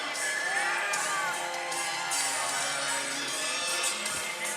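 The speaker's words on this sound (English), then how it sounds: "We're seeing some really cheering and clapping over on beam" A crowd at a gymnastics meet cheers, whoops and claps continuously at a distance, a dense roar of voices with no single sound standing out.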